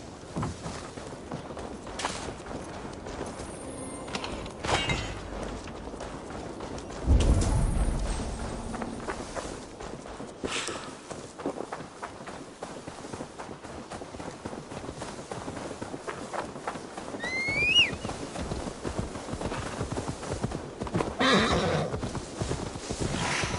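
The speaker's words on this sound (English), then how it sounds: "Now to deliver Magni his horse." Horse hooves clip-clop steadily in Assassin's Creed Valhalla on PS4 Pro, joined by a sharp neigh late on, all set against a busy, continuous game soundscape.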